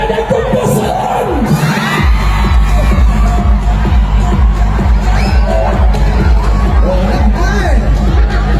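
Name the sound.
crowd applause at a rally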